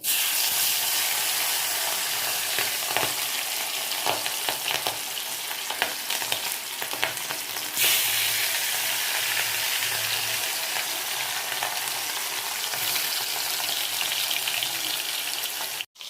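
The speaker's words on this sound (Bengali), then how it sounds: "তেল গরম হয়ে গেছে, এখন আমরা মাছ ভাজা করে নেব" Hilsa fish pieces frying in hot oil, a steady, loud sizzle and crackle that runs the whole time, with occasional stirring clinks and spatters and no talking.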